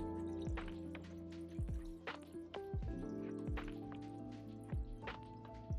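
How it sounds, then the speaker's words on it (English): Melted candle wax poured into a metal pouring pitcher, giving repeated soft liquid drips and splashes with low sloshing thuds at a steady, close pace, with no one talking. "it's so satisfying watching the melted wax go into the pour and the sounds"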